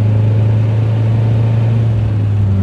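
A 1975 MGB's engine drones steadily while driving in fourth gear at about 45 mph, a loud, even low hum inside the car with no talking.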